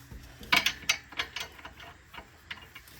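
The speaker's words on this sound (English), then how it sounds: "We're gonna try to loosen this nut here." A socket ratchet working a nut loose on the rear shock of a 2017 Prius Prime, giving a close series of sharp clicking pawl strokes, irregular and quick, with nothing spoken.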